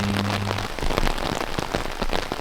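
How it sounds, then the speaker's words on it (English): Steady rain pours onto an outdoor surface, a dense, continuous patter of drops close by with no talk, and a brief low hum at the start. "It's raining! It's raining."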